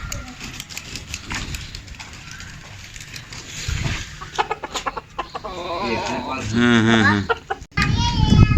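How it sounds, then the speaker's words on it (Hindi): Chickens cluck and squawk at a rural home, growing louder toward the end with harmonic bird calls, mixed with people talking and a voice nearby. "अब इनकी मुर्गियां दिखाता हूँ आपको।"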